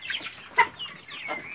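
Backyard criollo chickens cluck and chirp nearby on a cold morning, a sick chick among them, with short overlapping calls and peeps spread across the moment.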